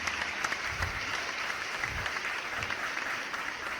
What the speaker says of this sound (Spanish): quiere un aplauso más fuerte